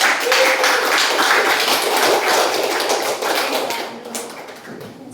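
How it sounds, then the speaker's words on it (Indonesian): Applause from a group in a classroom role-play session, a dense crackle of many hands clapping that holds steady for about four seconds and then tapers off toward the end. "tepuk tangan buat Rosa"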